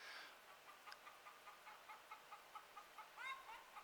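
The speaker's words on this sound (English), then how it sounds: "You hear the chickens?" Chickens cluck in short, regular bursts, with one bird letting out a louder, rising squawk near the end; no one speaks.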